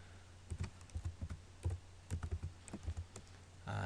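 Rapid, uneven clatter of computer keys being typed, close by, with short pauses between bursts and a steady low hum underneath.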